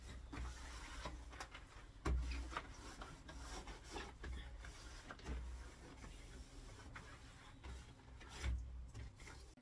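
Light hand sanding of painted woodwork in a boat's bedroom cabin, a steady close raspy rubbing with brief louder scuffs, alone without talk.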